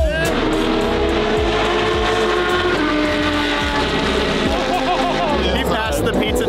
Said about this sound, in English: But you know Damon's having so much fun in that race car